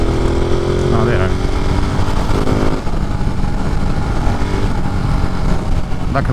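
A quick motorcycle rides through New Jersey evening traffic while lane splitting, its engine a steady loud drone with rising revs and wind rush continuing for the whole stretch, close and unbroken.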